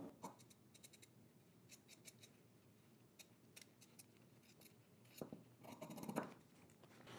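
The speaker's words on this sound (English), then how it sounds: "And then now I'm just gonna trim some of this off." Sewing scissors trimming fabric seam allowance, a string of quiet crisp snips and cuts with short pauses between them, close and soft, with no talking.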